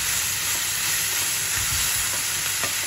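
Spoon stirring a chopped tomato mixture in a pan over the stove, with a steady close scraping and sizzling wash throughout, no voices.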